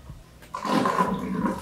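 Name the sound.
aquarium siphon water pouring onto waterproof shoe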